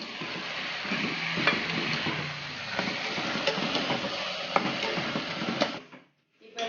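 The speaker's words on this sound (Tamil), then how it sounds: "இப்போ காளான் போட்டு கொஞ்சம் நல்லா வதங்கிட்டு" Mushrooms sautéing in a pan for a home-cooked dinner, a steady soft sizzle with occasional clicks and scrapes of stirring, close and alone, cutting out briefly near the end.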